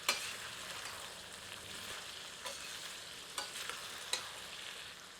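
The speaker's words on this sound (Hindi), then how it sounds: "सबको अच्छी तरह मिला देते हैं।" Tomatoes are stirred into potatoes and eggplant frying for aloo baingan sabzi. A soft, continuous sizzle runs throughout, with a few light ladle clinks, quiet and close.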